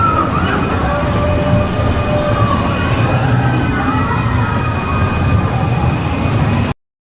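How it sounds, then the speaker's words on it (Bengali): Amusement park ride train entering a ghost house attraction at a park in Jhenaidah, Bangladesh, a loud continuous wailing, siren-like tone with rumbling ride noise throughout, cut off sharply at the end. "আর দেরি না করে আমরা ট্রেনে উঠে পড়েছি।"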